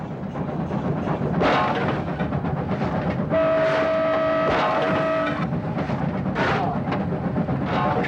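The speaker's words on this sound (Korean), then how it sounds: "어느덧 열차는 비탈길을 천천히 오르고 있었다." A train slowly climbing a slope toward the Tian Shan mountains, rumbling and clattering along with a sustained horn blast in the middle, steady mechanical noise throughout.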